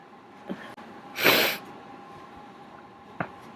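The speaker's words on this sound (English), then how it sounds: "So I gotta get this sneeze out." A single sharp sneeze bursts out close by partway through, flanked by faint breathy sniffs in an otherwise quiet room.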